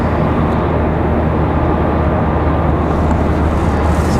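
A Bombardier Challenger 300 private jet landing at Raleigh-Durham airport, a loud, steady engine roar with dense rumble that holds unbroken throughout the stretch.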